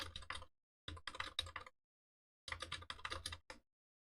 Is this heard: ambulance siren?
no